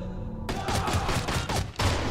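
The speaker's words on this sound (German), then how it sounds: "Ah, verdammt, jetzt hat mich der Sniper erwischt." A sniper shot in the video game Mark of the Ninja lands as a sudden loud blast cutting through quiet ambience, followed by rumbling bursts and a second hit near the end.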